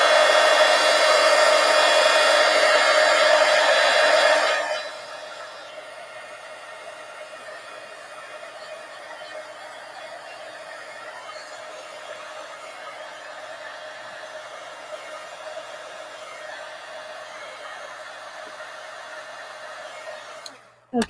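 A hair dryer blows on a paper collage with a loud, steady roar for a few seconds, then drops to a quieter continuous drone that lasts until it clicks off.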